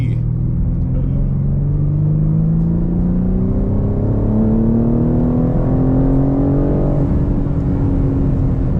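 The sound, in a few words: BMW M3 engine revving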